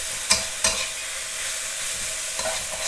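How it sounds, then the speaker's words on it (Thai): Minced pork with long beans sizzles steadily as holy basil leaves go into the hot pan, with two sharp spatula scrapes early on and a softer one near the end, close and continuous. "ใบกะเพราค่ะ ใส่ลงไปเลยค่ะ"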